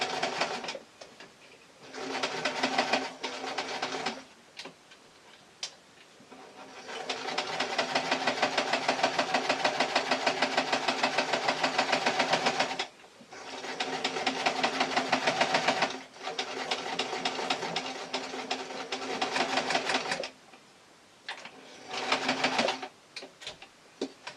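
A sewing machine stitches the last edge of cloth on a book jacket case for a tablet, running in a steady rapid whir of needle strokes. Long runs start and stop, broken by short pauses while the fabric is turned.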